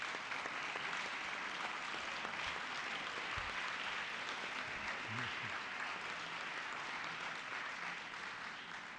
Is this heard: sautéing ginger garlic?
no